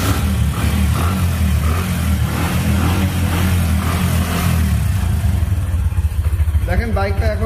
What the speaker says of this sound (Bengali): দেখেন বাইকটা এখনো রানিং এ আছে, বাইকটা এখনো রানিং, কত সুন্দর সাউন্ড